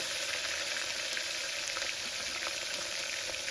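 Oil crackles and sizzles steadily in a pan while chicken curry (chicken thanni kuzhambu) cooks, a continuous close frying hiss with scattered pops and no talking.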